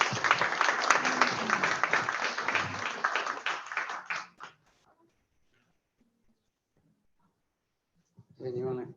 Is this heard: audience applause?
yes